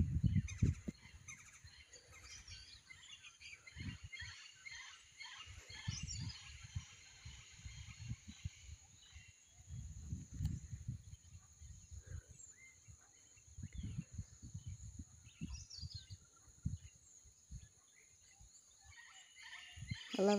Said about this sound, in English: I love all the jungle noises.